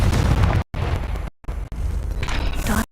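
A fiery blast spell cast in the Hogwarts Legacy video game: loud, dense rumbling bursts that fill the sound, broken by a couple of brief dropouts into silence.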